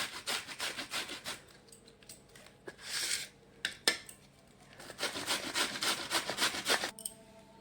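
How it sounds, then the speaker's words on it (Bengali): Cauliflower scraped against a hand grater for Bengali paratha, a close run of quick rasping strokes in rhythmic bursts with a brief pause midway, no talk. "আমার কপিটা কদুকাস হয়ে গেছে"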